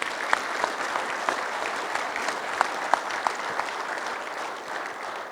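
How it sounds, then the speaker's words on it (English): An audience applauds to honor an Illinois crop production specialist, with steady even clapping from a crowd and a few sharper individual claps standing out close by. "So let's give it a nice round of applause to Emerson Nafziger."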